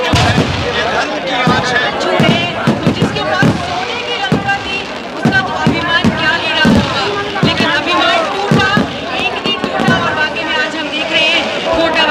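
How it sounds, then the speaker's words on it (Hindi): Fireworks at a Ravan Dahan Dussehra festival celebration in Kota go off in a dense run of sharp bangs and crackling bursts over a continuous, noisy crowd hubbub. "हम इस आतिशबाजी के भव्य नज़ारे को एंजॉय कर सकते हैं"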